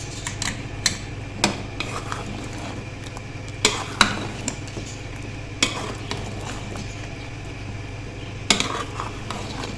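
A spoon stirs chicken with red chili powder, turmeric and salt in a pot for Mughlai chicken handi, scraping steadily against the metal with repeated clanks and light sizzling throughout.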